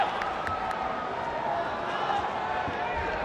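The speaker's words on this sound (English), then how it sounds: "This crowd rallying behind Kevin Bellion." A fight crowd cheers at a championship bout, with a steady wash of voices and noise rising a little in the middle and carrying on at moderate loudness throughout the clip.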